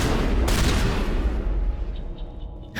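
A shotgun in the Mass Effect shooter fires a couple of close, punchy blasts amid battle noise at the start, then the din thins out into a quieter tail with small distant pops.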